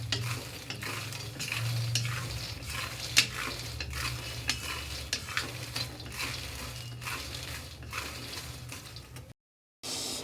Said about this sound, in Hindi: मखानों को इतना भूनना है कि जब हम हाथ से मखाने टच करेंगे तो मखाने फटाक से फूट जाएं